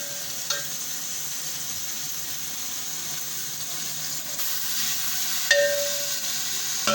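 Tomatoes, mint and crushed green chilies fry for chana pulao, giving a steady, fairly loud broadband sizzle with a couple of brief knocks and scrapes from the pan.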